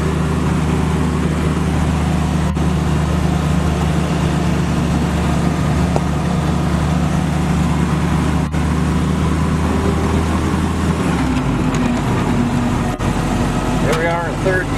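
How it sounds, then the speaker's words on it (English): A restored 1946 Willys CJ2A Jeep engine cruising in third gear on a country road hums as a steady, loud, low drone that shifts near the end, with someone talking over it. "Here we are in third gear, just cruising down a country road."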